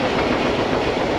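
A train running on rails, a steady loud rumble with rapid clattering wheel noise, continuous and close for a brief moment.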